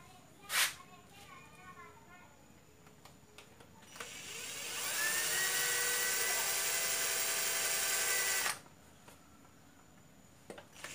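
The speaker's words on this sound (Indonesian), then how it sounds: "Nah, bor. Langsung bor." Power drill boring a small pilot hole in a motorcycle fairing to mount an aftermarket mirror; a steady high whirring whine lasting about four seconds, with a brief voice and a tap before it.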